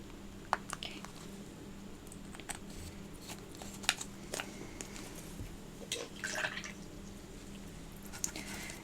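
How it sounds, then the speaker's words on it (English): Small drips and wet dabbing as water is added to a purple-gray paint mixture with phthalo blue, faint close-up taps and squishes scattered over a quiet room. "Added some water to a little purple gray mixture I have right now."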